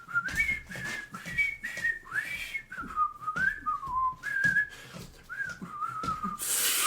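A person whistles the Marseillaise in a clear, melodic run of phrases with breaths between them, fairly close and alone, with no talk over it.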